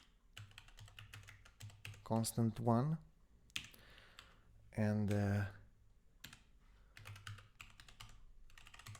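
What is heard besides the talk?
typing on a computer keyboard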